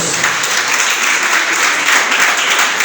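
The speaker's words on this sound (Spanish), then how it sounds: "¿Cuánto le da un aplauso a ese Dios?" Church congregation applauding during a sermon, a loud, continuous wash of clapping filling the hall without any speech over it.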